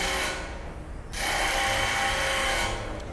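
A construction machine hammers at a stadium building site, a loud rapid mechanical rattle that drops briefly and then surges back steadily, dominating with no talking.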